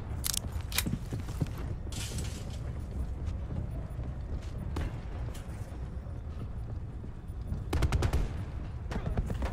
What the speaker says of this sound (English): I'm going to reload quickly while I've got the chance.